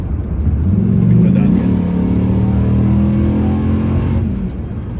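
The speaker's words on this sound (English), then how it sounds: "such a weird sounding V10 as well" An American V10 truck engine revs up, a loud, throaty rise that peaks and then settles into a steady drone before easing off, with no talk over it.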